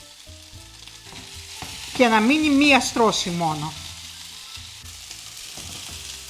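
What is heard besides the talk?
meatballs frying and being stirred in a pan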